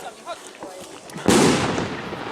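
A loud firecracker bang bursts outdoors during New Year's Eve midnight celebrations, a sudden sharp crack followed by a lingering rumbling, crackling tail; voices talk quietly beforehand.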